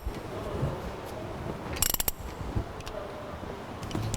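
A socket wrench with a 14mm socket ratchets a brake bolt tight, giving quiet, close clicking strokes in short runs and a brief sharper burst in the middle.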